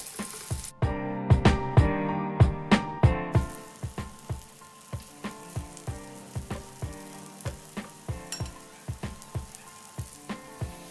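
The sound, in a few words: frying brinjal pieces in a pan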